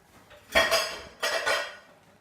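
Crab soup is stirred in a pot, heard as two close bursts of metal utensil scraping and clinking against the pan with a quiet pause between them; no one talks.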